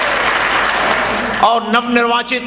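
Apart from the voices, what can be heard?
loud applause welcoming a guest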